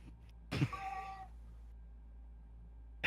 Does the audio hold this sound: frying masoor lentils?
no